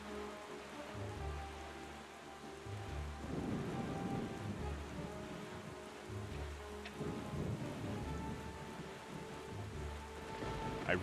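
Stormy ocean weather in Zelda: Wind Waker: continuous rain pours over a low bed of rolling thunder, with heavier rumbles swelling twice and a sharp crack near the end, no voices.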